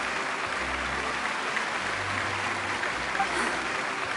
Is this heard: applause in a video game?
yes